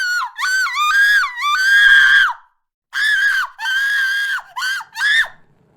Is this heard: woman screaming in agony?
yes